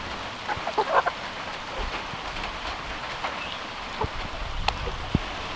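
Rain falls outdoors near a farm, a faint, steady patter and hiss running throughout, with a few soft bird clucks and small knocks scattered over it and no talking.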